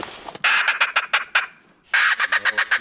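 A teal duck call blown in quick bursts of raspy, nasal quacks, two rapid series separated by a short pause, loud and close.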